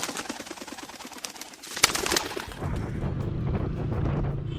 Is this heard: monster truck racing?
no